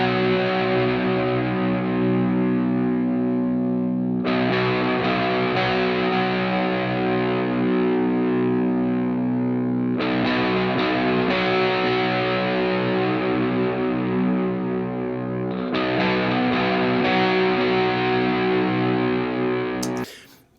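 Heavy distorted electric guitar riff plays continuously, thick sustained chords shifting in repeated sections, loud and dense, with no voices.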